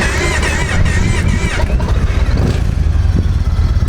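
A Yamaha Raider motorcycle with factory exhaust idles in a low, steady, fairly quiet rumble, with a brief voice over the first half.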